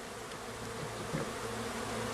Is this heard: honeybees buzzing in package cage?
yes